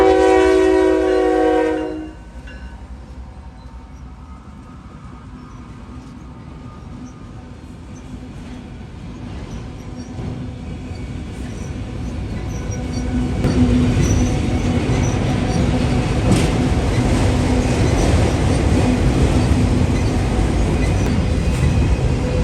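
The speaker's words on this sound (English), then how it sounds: "caught by this southbound CSX Autorack train" A southbound CSX autorack freight train gives a loud horn blast at the start, then rolls past with steady, growing rumble and wheel noise that swells and stays loud to the end.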